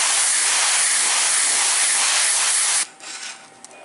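Steady, close hiss of an airbrush spraying black paint onto a 3D-printed figure for about three seconds, then it cuts off, leaving faint room noise and a small tap.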